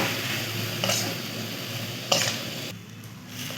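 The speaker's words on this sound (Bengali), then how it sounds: "এর মধ্যে একটু ছাতু দিয়ে দেবো। তারপর ভালো করে নেড়ে নেব।" Sattu, roasted gram flour, being stirred into a cooking pot for a village-style summer dish, giving soft scraping and sizzling over a steady background hum, with two brief louder scrapes partway through.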